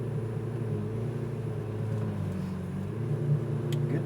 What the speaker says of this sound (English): You can pull forward now, and you're basically going to make a big old U-turn to the left.